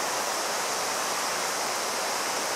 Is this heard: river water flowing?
yes